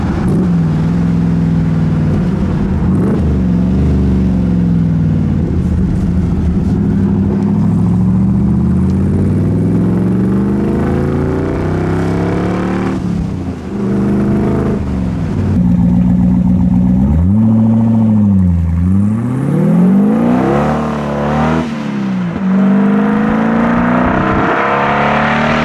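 A Cobra kit car with an RPi 3.5 V8, stage 3 upgrade, accelerates hard, its loud engine rising and falling through several gear changes, heard close up from onboard with no talk.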